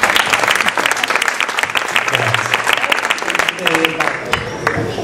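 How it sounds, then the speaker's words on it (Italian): Audience applause at a public talk for a couple celebrating their wedding anniversary, dense continuous clapping with some voices mixed in, loud and near. "vorrei fare un applauso a Rosina e a Pietro"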